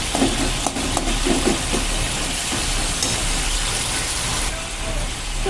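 A spiced potato and bitter gourd curry is stirred in a pan, giving a dense, even sizzle and bubbling with faint scrapes from a spatula. A voice talks over it.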